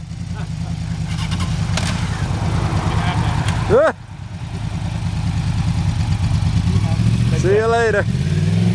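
A Ducati motorcycle idles and rumbles steadily nearby, its engine note rising in brief revs around the middle and near the end, while people talk over it.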